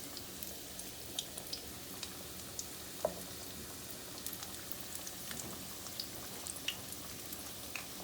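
Philly cheesesteak egg rolls fry in a pan with a constant bed of crackling and scattered sharper pops and spits, like light rain on a surface, steady and close with no voices.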